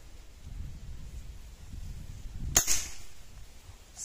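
One sharp shot from an Artemis M25 PCP air rifle, 5.5 mm caliber, at 25 metres cracks out against gusty wind noise, followed by a brief metallic ring.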